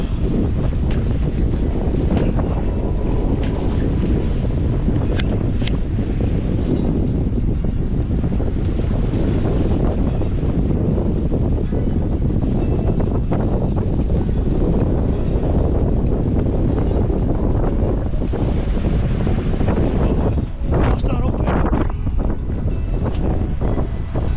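Steady wind rushing across the microphone aboard a sailboat off the southern tip of Dominica, with water swishing along the hull and occasional creaks; no engine noise, continuous throughout.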